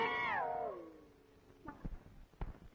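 A cat gives one clear, drawn-out meow that falls in pitch, followed by a few soft rustles and bumps nearby.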